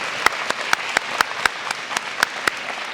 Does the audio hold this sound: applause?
yes